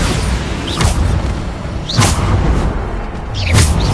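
Bombarda blasting spell explosions in the Hogwarts Legacy video game, three loud booming blasts with whooshing tails spaced about one and a half seconds apart over a dense, rumbling background.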